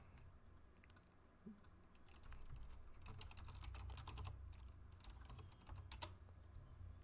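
Steady clatter of typing on a computer keyboard, quick irregular keystrokes close to a microphone, continuous for several seconds with no talk.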